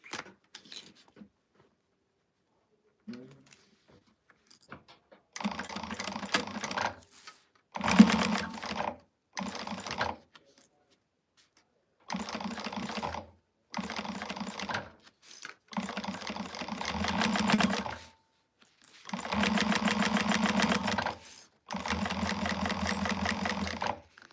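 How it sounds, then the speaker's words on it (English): Domestic sewing machine stitching fabric along a seam allowance during a live sewing session, running in repeated bursts of steady mechanical whirring separated by short pauses, with no talk over it. "Now we're going to sew this on at the seam allowance that she gives you."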